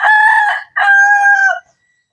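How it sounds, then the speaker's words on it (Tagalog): A fighting rooster crows loudly and close by in two drawn-out, piercing phrases, followed by silence. "Ito yung mga manok nila."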